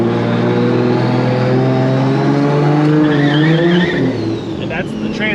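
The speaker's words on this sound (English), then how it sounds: "that's the trans brake building up boost in second gear on the trans brake" 2JZ-swapped BMW E30 with an 8HP70 transmission building boost in second gear on the trans brake, a loud, close, strained engine drone with squealing tones before the revs drop away; a voice is heard too.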